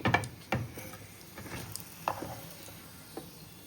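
Veg rolls fry in oil with a faint, soft sizzle, punctuated by a few sharper clinks and scrapes as the rolls are turned or lifted out, close but quiet.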